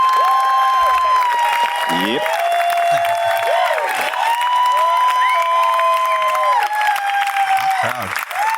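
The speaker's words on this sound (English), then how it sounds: "Ladies and gentlemen, give a big round of applause" Audience applause and cheering at a live show fill the whole stretch, loud and steady, with whoops and bright tonal whistles running through it. A voice speaks one short word over the noise.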